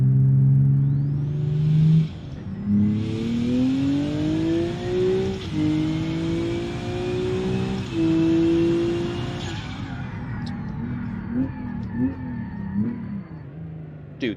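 A car engine in the BeamNG driving game accelerates hard through several gears, its pitch climbing and dropping at each shift, loud and close with tire and wind noise as it pulls away.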